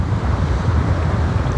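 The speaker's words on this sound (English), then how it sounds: "It's really windy right now." Strong wind gusts buffet the microphone outdoors beside a trout river during fly fishing, a loud continuous low rumble with fluctuating roar and no voices.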